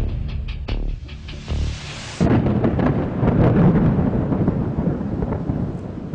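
A deep, loud rumble of thunder rolls in and keeps growling for several seconds after a few earlier muffled thumps.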